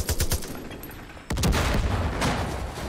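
Gunfire in the shooter game Far Cry 5, rapid sharp bursts of shots at the start, then a heavier sustained barrage after a sudden louder blast, dense and fairly close, no talking.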